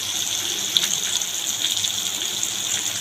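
Tap water gushes steadily over a plate being rinsed in a kitchen while cooking a vegetarian dish, a continuous close hiss with a small clatter partway through and no voices.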